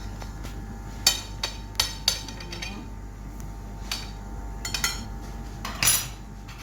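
A small spoon clinks against a dish in several sharp, close taps spread irregularly over a quiet background.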